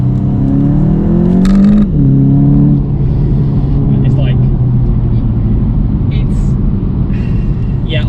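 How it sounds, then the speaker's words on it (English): A Volkswagen Golf GTI TCR's engine drones steadily and loudly from inside the cabin, rising briefly in pitch as it revs before settling into a constant hum, with someone talking over it. "The car makes a really good noise."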